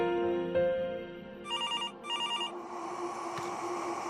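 A landline telephone ringing in a home, with two clear electronic ring bursts separated by a short gap, moderately loud, and background music running underneath.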